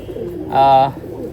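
A Pakistani high-flying pigeon gives a short, clear coo in a loft, a single resonant warbling call rising over low background murmur and room noise.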